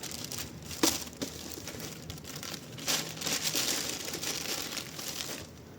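Crisp plastic bag crinkling and rustling close by in several bursts, with sharper crackles and softer handling noise between them.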